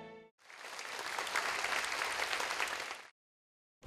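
A concert audience gives loud, sustained applause after a string trio of harp, violin and cello, a dense wash of clapping lasting about three seconds before stopping abruptly.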